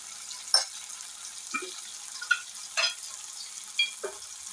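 Tomato rice ingredients being sautéed in a pan, a quiet, steady sizzle broken by a handful of soft stirring scrapes spaced about a second apart.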